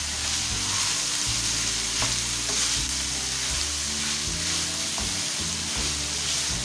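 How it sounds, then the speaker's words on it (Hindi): Cabbage and other vegetables sauté in a hot pan, a steady crackling sizzle broken by several stirring scrapes, close and moderately quiet with no voices. "इसको थोड़ा सा सौते कर लेते हैं वेजीज को।"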